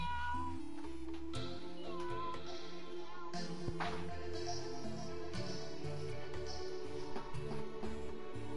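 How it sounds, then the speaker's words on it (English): A cat in an attic meows repeatedly over a steady bed of game music and background sound, with the cries rising and falling throughout. "I literally still hear the cat in the attic"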